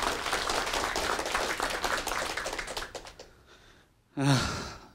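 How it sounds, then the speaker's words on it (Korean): Studio audience applause for a guest lecturer on a Korean TV lecture program about startups: steady, dense clapping for about three seconds that fades out, followed by a brief vocal sound. "큰 박수 보내주시기 바랍니다"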